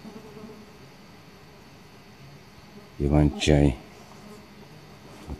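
A low, steady drone of wild forest bees hums in the background among fireweed plants while a voice speaks briefly in the middle.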